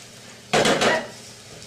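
Mushrooms heating through in a pan, heard as a brief burst of clattering and scraping of a utensil on cookware with a light sizzle, lasting about half a second before fading to quiet.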